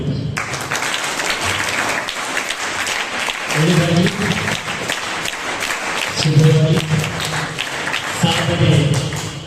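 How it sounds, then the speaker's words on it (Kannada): Applause from a school seminar audience, a sustained broad clatter of many hands lasting several seconds while a speaker's voice carries on over the top. "ಈ ಚಪ್ಪಾಳೆ ಕೊಡಿಬಿಟ್ಟು"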